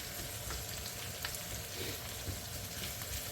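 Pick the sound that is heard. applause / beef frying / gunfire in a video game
beef frying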